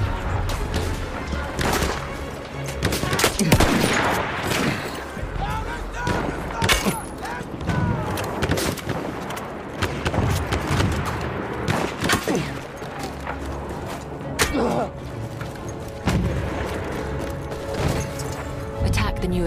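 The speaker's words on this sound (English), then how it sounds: "Wait for the enemy artillery barrage to stop firing." Enemy artillery barrage in a combat video game, a dense run of heavy booms, thuds and crashes at irregular intervals, some near and loud, others farther off, mixed with scattered gunfire and mechanical noise.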